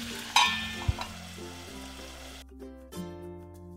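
Aloo gobi sabzi with tomatoes sizzling softly in a pan, a steady low frying hiss with a couple of sharp clatters near the start, then a quieter humming stretch toward the end.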